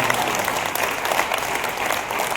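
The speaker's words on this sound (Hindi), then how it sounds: "तालियां थोड़ी कम रह गई, आपकी उम्मीद ज्यादा।" Audience applause at a Hindi veer ras poetry recital at a Mahaveer Jayanti kavi sammelan, a steady dense round of clapping from a crowd, loud and continuous, with no voices over it.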